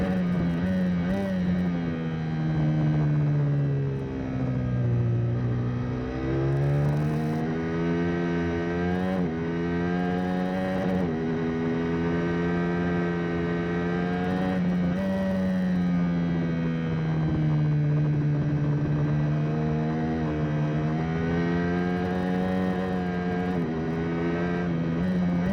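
Honda supersport motorcycles on a race track produce a sustained, loud engine drone whose pitch rises and falls as they accelerate and pass, with no gaps.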